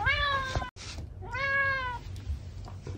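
A house cat meows twice, clear and close, with rising-falling cries and a short pause between them, against quiet room noise.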